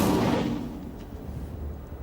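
A fiery Incendio spell cast in the Hogwarts Legacy video game bursts out loud and close at the start, then fades into a rumbling tail with no voices.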